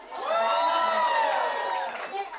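Crowd at a political event, the 2024 Republican National Convention in Milwaukee, cheering loudly in a short, sustained burst of whoops and shouts. The cheer swells quickly, holds, then fades.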